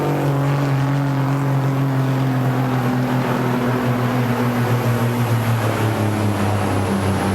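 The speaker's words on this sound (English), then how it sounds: "you could just hear it pulling that engine down" A pulling tractor, the Black Thunder, strains against the sled at a tractor and truck pull in Goshen, Indiana, its engine a constant low droning roar that bogs and lugs under load, loud and unbroken throughout.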